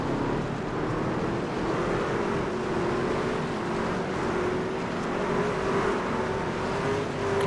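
Race car engines idle and roll on pit road at Daytona in a racing sim, a dense, steady, close rumble with a faint rising engine tone.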